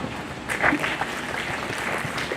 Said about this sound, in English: I would like to give them a round of applause right now